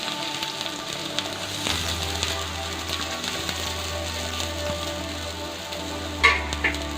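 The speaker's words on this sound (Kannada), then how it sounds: "ಎಣ್ಣೆ ಕಾದಿದೆ, ಈರುಳ್ಳಿ ಹಾಕೋಣ." Onions sizzle steadily in hot oil in a kadai, a continuous close frying hiss with a brief louder crackle near the end; no voices.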